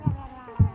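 Two low, thumping heartbeat pulses about half a second apart, played as a steady beat from a detecting device, with a faint hum underneath and no talk.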